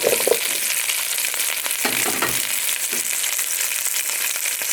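Carrots hit a hot pan for a chicken curry, giving a steady loud hiss of frying with a few clattering stirs near the start and middle, no voices.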